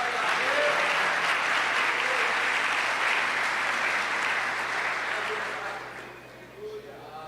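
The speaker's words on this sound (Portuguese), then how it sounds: "Aplauda Ele." Congregation in a church breaks into sustained applause, a dense wash of clapping that holds steady for several seconds before thinning out and fading near the end.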